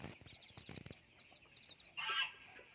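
A jungle fowl clucks in short repeated calls, followed by a louder, brighter burst of squawking near the end; no talking.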